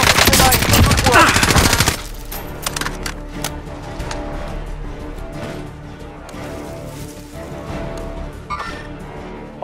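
Call of Duty Modern Warfare Warzone gunfire on Xbox One: a dense burst of rapid automatic fire opens loud and close, then scattered single shots and crackling impacts follow at lower level for several seconds.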